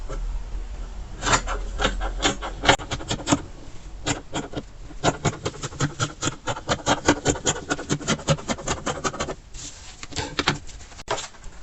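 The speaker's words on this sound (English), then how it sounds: "so I need to cut it out." Scissors cutting through fabric for an A-line gown, a close series of crisp rasping snips and rubs in quick, uneven bursts, with short pauses between strokes.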